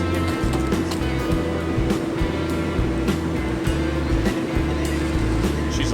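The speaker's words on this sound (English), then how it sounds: "driving a Model 3." A Tesla Model 3 on the road fills the space with a steady broadband rush of tire and wind noise under a low rumble, unbroken and fairly loud from start to finish.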